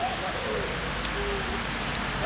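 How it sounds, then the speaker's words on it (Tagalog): Steady, even hiss of rain falling, constant throughout with no breaks. "Umuulan na"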